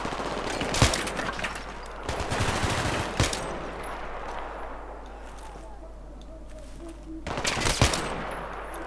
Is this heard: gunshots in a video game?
yes